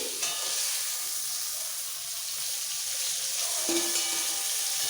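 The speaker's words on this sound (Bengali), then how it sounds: "ভালো করে ভেজে নিতে হবে সব পটল" Pointed gourds (potol) fry in oil for a fish-stuffed potol dorma, giving a steady, close, continuous sizzle and hiss throughout, with no talking.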